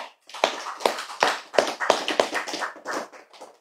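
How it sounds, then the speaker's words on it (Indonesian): Audience at an Islamic religious gathering clapping in separate sharp bursts, roughly nine loud claps spaced irregularly across a few seconds, close and clear with no talk over them. "Tepuk tangan."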